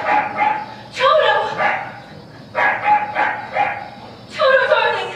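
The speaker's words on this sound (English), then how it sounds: "you wonderful dog" A dog barks on stage during a high school musical performance: bursts of sharp, yippy barks and whimpers, loud and close, repeating in uneven groups.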